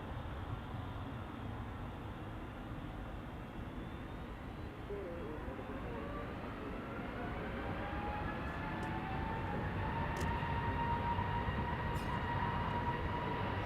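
An airliner on its way from Manchester to Dubai passes over Leiden, its engines making a steady broad roar with a slowly gliding whine. The roar is moderately distant, grows a little louder over time and carries on with no talk.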